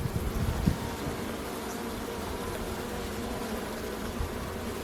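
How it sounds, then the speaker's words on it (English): Stingless bees buzz in a continuous close swarm drone, steady and fairly loud with no talking. "I keep having to remind myself that these are stingless bees."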